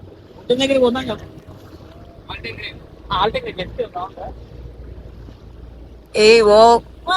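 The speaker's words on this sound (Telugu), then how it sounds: "అసలు స్పీడ్ బోట్ ఎక్కిన తర్వాత భలే ఉందండి అసలు" A speed boat runs across the lake at Lumbini Park in Hyderabad, its engine a low steady rumble with wind rush beneath bursts of excited voices talking nearby.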